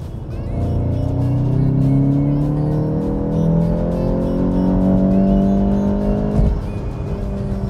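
A Volkswagen Golf GTI Performance revs up through rising engine and exhaust sweeps, loud and close for about six seconds before easing off, with no talking.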